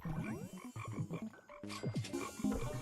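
Tadpole frog croaks from the Bee Swarm video game, a busy run of repeated bubbly croaks and chirps layered over each other, fairly close and steady, with no talking.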